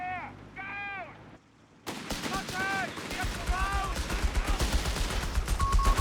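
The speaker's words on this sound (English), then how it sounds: "getting absolutely blasted by the Vickers" Vickers machine gun fire in a Company of Heroes 3 multiplayer battle, with rapid bursts and other gunfire and explosions crowding the mix, while in-game voices and sound effects chirp over the loud, busy battlefield.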